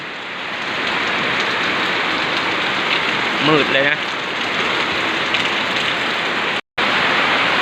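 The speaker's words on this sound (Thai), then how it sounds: "เพราะว่าฝนมันตกแห้ง" Heavy rain pours down during a rice harvest, a loud, unbroken hiss of drops on surfaces, with a person briefly talking partway through.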